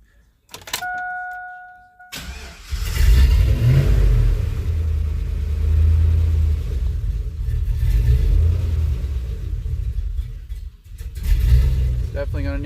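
A Chevy LS V8 with a swapped camshaft in an RCBS Chevy, heard cranking and firing up after a brief pause, then idling loud and rumbling close by with uneven, lumpy surges.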